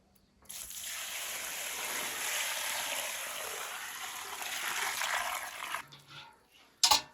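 Warm water poured from a bucket onto chopped parsley, a steady splashing rush lasting several seconds close by, tapering off, followed by a brief clunk.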